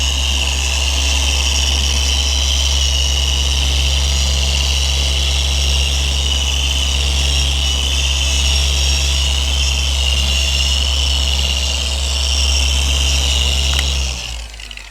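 Polishing machine buffs the paint of a 1965 Ford Mustang, a steady loud whirring drone with a low motor hum that runs continuously before cutting off near the end.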